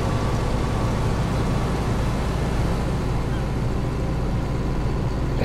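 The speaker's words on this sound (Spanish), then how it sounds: "el ruido de los motores de estos tractores es muy peculiar, ¿eh? Se parece más al sonido de un camión." Tractor engines in the video game Farming Simulator 19 producing a loud, constant truck-like diesel rumble that fills the whole clip without a break.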